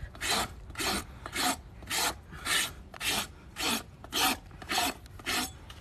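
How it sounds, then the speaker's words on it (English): A worn wood rasp files in steady back-and-forth strokes, about ten rhythmic rasping passes, close and loud with no voices. "I need a new rasp."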